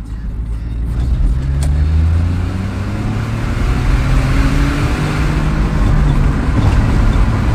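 A small Smart car driving, its engine hum and road rumble steady and close, rising slightly in pitch as it moves along, with a faint voice briefly present.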